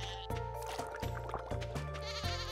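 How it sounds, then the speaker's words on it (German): A goat bleats in the farming video game Stardew Valley, a wavering, tonal animal call set against game music with short rhythmic percussive hits, moderately loud and close. "wo ist meine andere Ziege?"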